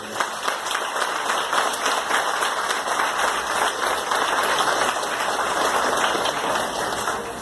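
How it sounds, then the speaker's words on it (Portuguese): A church congregation at a Sunday service claps together, a dense, sustained wash of applause filling the hall, steady and loud throughout with no voices standing out. "Aplauda o nome do Senhor"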